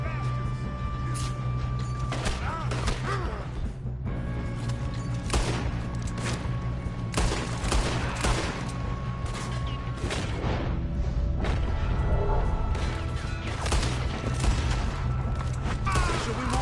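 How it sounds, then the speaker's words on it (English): Gunfire in the video game Red Dead Redemption 2, with a dense, continuous battle of shots and booms over a droning background, under in-game voices. "Why don't you shoot those bastards?"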